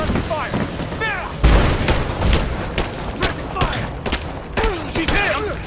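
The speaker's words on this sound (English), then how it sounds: "Give me suppressive fire!" Suppressive gunfire in the game Rise of the Tomb Raider: repeated sharp shots and booming blasts, loud and close, with voices calling out amid the firefight.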